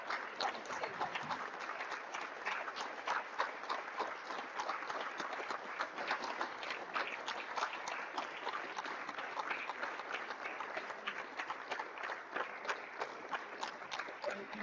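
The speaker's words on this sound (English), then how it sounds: "Please let me take a 1 minute clap." Sustained applause from an audience standing for a one-minute ovation at a project closeout event, dense steady clapping throughout at an even level with no break.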